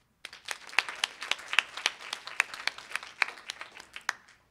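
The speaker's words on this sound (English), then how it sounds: "Thanks for cheering." An assembly audience applauding, a steady patter of clapping hands that starts abruptly, with sharper claps standing out, then fades after about four seconds.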